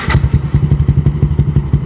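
A loud, close modified 200cc scooter engine with a lumpy, throbbing exhaust, rapid regular pulses, revved briefly at the start and then settling into a choppy rhythm.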